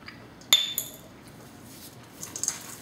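A spoon stirs cupcake batter made with pineapple juice, carrot and crystallized ginger in a bowl. A sharp clink rings out, a second follows quickly, then a few lighter taps come later, all close and otherwise quiet.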